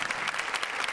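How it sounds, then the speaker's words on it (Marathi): A short burst of audience applause for a guest folk singer on a Marathi comedy show stage, dense, steady clapping heard briefly. "जोरदार टाळ्या शाहिरांसाठी"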